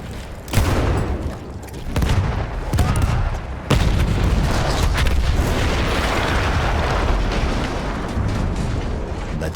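A Battlefield 1 artillery gun blows up in a deep, loud blast at close range, with further heavy booms and crackling debris rolling on in a sustained roar over the next several seconds.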